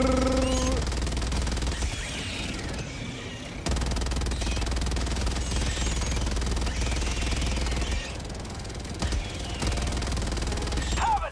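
In the Helldivers 2 video game, a mech fires both of its arm-mounted guns in sustained rapid bursts, loud and dense, with a few short breaks between volleys.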